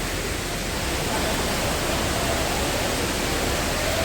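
A waterfall in Kerala where people slide down the rocks, heard as a steady, loud, unbroken roar of rushing water that fills the whole clip with no pauses.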